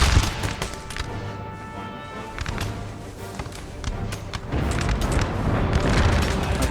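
Cannons boom from warships in Empire: Total War, several deep blasts spaced a few seconds apart over a steady roar of naval battle, with a heavier rumble building toward the end.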